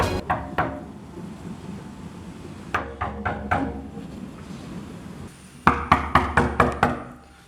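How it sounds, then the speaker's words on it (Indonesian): Knocking on a door: several groups of sharp raps, first two knocks, then a cluster of four, then a louder run of about six knocks near the end. "Lalu terdengarlah ketukan."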